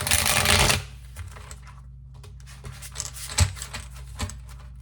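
Tarot cards are shuffled by hand: a dense burst of riffling up front, then scattered soft taps and slides of the stiff cards, close and alone without talk.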